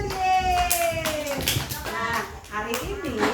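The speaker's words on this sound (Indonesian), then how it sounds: "Tepuk tangan untuk anak yang jujur" Children clapping their hands in a classroom, scattered uneven claps under a teacher's voice and children talking.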